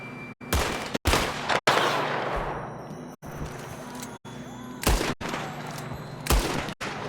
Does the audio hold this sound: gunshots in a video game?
yes